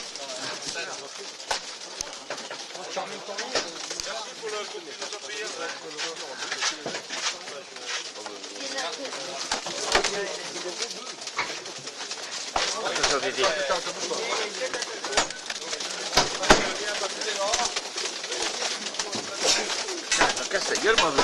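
Many pigeons coo and murmur close by inside a truck, a continuous chorus of soft burbling calls with scattered flutters and knocks, and people talking.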